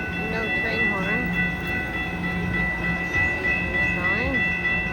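A train rolls past a silent railroad crossing on Cassidy Street in Oceanside, California, with no horn sounded: a steady rumble with tonal squeals and whines throughout, while a voice is faintly present nearby.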